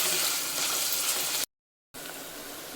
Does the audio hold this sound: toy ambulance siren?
no